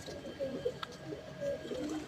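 Madrasi pigeons coo softly in a few low, throaty calls, close but quiet over a faint background hum.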